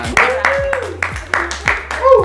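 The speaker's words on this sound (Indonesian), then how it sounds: "Oh, tepuk tangan untuk Septian." About seven sharp hand claps land in an even rhythm, close to the microphone, while voices carry on underneath.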